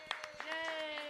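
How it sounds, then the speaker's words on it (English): A live music stage audience gives scattered applause for performers. A few faint, irregular claps sound over a sustained tone and a voice. "Let's give a round of applause."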